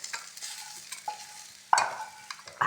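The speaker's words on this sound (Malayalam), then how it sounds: "ഇനി അതിനൊന്ന് ഇളക്കി കൊടുക്കണം കുറച്ച്." A spoon stirs potato fry with shallots and curry leaves in a hot pan: a few separate scraping strokes over a soft, steady sizzle of frying oil, close by and with no talking.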